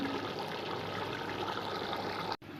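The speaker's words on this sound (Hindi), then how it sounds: "पानी बॉयल होने लग गया है।" Water in a large pot coming to a boil for Karachi-style chicken biryani rice, a steady bubbling and hissing wash that runs continuously at close range, with a brief dropout near the end and no talking.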